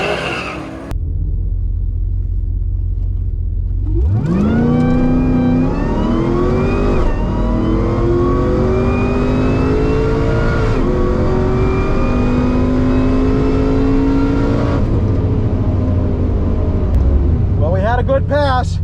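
A Cadillac CTS-V wagon launches down a drag strip, its engine roaring loudly and rising through the gears in long sweeping pulls with brief shift breaks, close and dominant, before easing off at the end of the pass.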